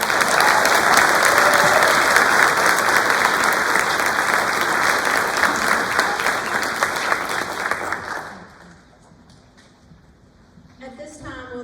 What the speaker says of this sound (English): Please give our 2-year members a round of applause